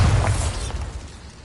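A Bombarda spell blast in the Hogwarts Legacy video game: a short, heavy explosive burst with a deep boom at the start that rumbles and fades over about a second and a half.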